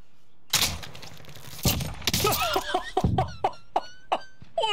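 Gunfire from the video game Call of Duty Modern Warfare: several sharp, loud broadband bursts spaced unevenly, mixed with other game effects and chirpy tonal sounds, with no talk.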